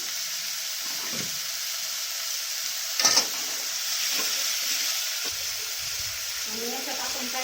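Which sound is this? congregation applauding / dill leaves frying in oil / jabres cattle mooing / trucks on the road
dill leaves frying in oil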